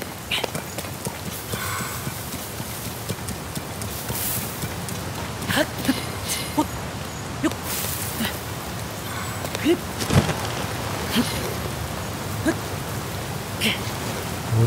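Rain falls in the video game Zelda: Tears of the Kingdom, a continuous hiss of drops with horse hooves clip-clopping beneath it and occasional sharper game sounds.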